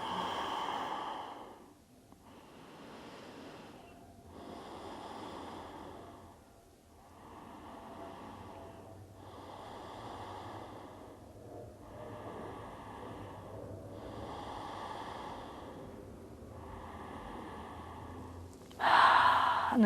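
Slow, steady breathing during a prenatal yoga stretch, about seven soft, evenly spaced inhale-exhale cycles, close and quiet, with a brief louder noise at the very end.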